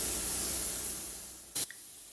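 A spray gun hisses steadily as base coat paint is sprayed in an engine bay, the airy rush gradually fading, followed by one short sharp burst of spray.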